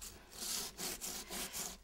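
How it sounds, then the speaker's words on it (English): Rhythmic rubbing strokes of sanding and distressing painted furniture, four or five steady back-and-forth passes of abrasive on wood, close and fairly quiet with no voices. "sometimes I spend more time sanding and distressing than anything"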